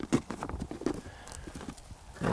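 A horse's hooves clop unevenly on the ground as it is worked over an obstacle during groundwork training, the steps close and fairly loud with a soft shuffle between them.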